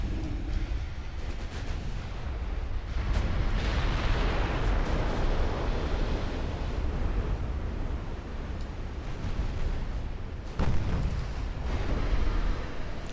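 Warship secondary batteries firing in a naval war video game, a dense rumbling barrage of booming shots and blasts over continuous low roar, loud and sustained with a sharp burst near the end.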